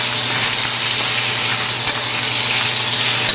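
Shrimp coated in cornstarch fry with ginger in a hot pan, giving a loud, steady, close sizzle that continues unbroken throughout, with no voices.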